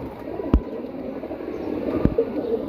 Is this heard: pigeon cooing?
yes